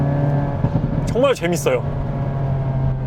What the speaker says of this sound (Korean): 이 배기 사운드가 순정이다라는 게 정말 놀라울 따름입니다